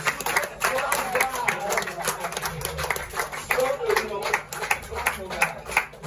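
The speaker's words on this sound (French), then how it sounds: "J'aimerais qu'on acclame encore très fort" An audience at a deliverance church service claps rhythmically and cheers, with voices mixed in throughout, a lively, continuous wash of hands and crowd noise.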